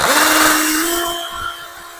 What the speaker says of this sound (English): I'm drilling a new hole for this one.